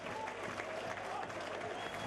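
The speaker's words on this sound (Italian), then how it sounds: "La gradinata però non risparmia applausi ai propri beniamini." A crowd claps steadily and evenly, a dense wash of applause with no pauses, heard from a distance.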